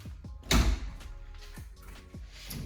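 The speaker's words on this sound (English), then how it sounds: "Let me close the door." A door in a home office is pushed shut with one loud thud near the start, followed by a few softer knocks and clicks in a quiet room.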